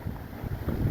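Dry wind blows steadily outdoors, a continuous low rumbling buffet with gusts swelling against the microphone throughout, and no voices.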